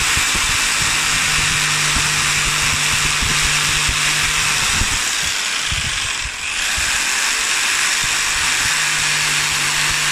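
A power tool whines steadily as it cuts a wooden part for a self-centering doweling jig, with a brief dip in the middle and no talking.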